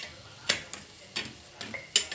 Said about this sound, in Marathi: दोन्ही बाजूला भाजायच्या वेळी असा पराठ्याने दाबायचा, म्हणजे पराठा खुसखुशीत होतो